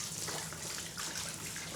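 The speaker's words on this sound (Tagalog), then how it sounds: "Ngayon, lagyan natin ng tubig." Water is poured out for thirsty animals to drink, a soft, continuous gushing splash that stays steady and fairly close for the whole short stretch.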